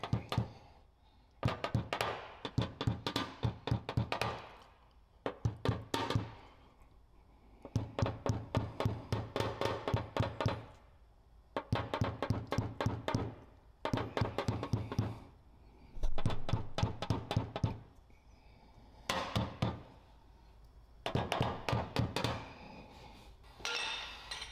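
A paintless dent repair knockdown tip taps a dent in a Subaru fender, giving rapid bursts of sharp, close metallic taps separated by short pauses, without any talking.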